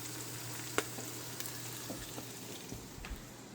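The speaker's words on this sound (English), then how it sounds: "Alright, stir that in," Garlic puree being stirred into a potato soup base in a pot, with quiet sizzling and occasional soft clinks and scrapes of a spoon and no talking.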